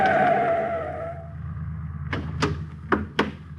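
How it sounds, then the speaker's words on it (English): A car turns a street corner with a drawn-out tyre skid, then a few sharp thumps and knocks follow as the engine rumbles on low beneath them. "He comes to the intersection of a street and alley just as a car turns the corner."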